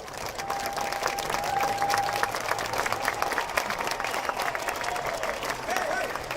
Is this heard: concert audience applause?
yes